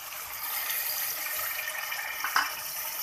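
A cup of water is poured into masala kaleji, spiced goat liver cooking in a pan, making a steady, close rushing splash that continues unbroken for about three seconds.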